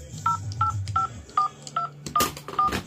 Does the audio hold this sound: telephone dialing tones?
yes